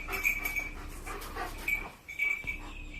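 A large Great Dane dog panting and whimpering up close, soft breathy huffs with a faint whine over a low room background, no speech.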